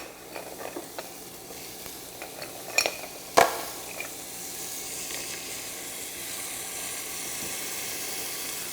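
Clams (lambretas) tipped into a pot over a bed of onion and olive oil, giving a couple of sharp clatters followed by a steady close sizzle and frying hiss that continues on its own.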